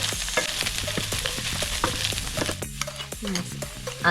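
Sisig mix with leftover roasted pork is stirred and fried in a pan: a steady sizzle runs under repeated clattering scrapes of a spatula, close and fairly loud.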